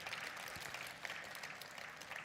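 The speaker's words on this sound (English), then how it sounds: "Give yourselves and all of you a massive round of applause" Audience applause at a 2024 annual budget dialogue event, a steady wash of many hands clapping at moderate distance, fairly quiet and continuous throughout.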